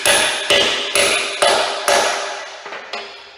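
Socket used as a driver to hammer a collar onto a John Deere mower deck spindle shaft: six sharp metallic hammer strikes at a steady rhythm, loud and close, each ringing briefly before the next, with a few lighter taps at the end.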